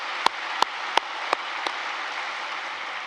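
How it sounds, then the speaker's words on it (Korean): An audience at a joint Easter union worship service at Yeouido Full Gospel Church gives a few separate, distinct claps that fade out, leaving a quiet hall hum behind. "다시 한번 뜨거운 박수를 부탁드립니다."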